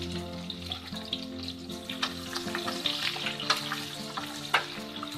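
Onions just added to a pan of lightly cooked garlic, frying with a busy sizzle and crackle, stirred with intermittent scraping clatters, close up and without speech.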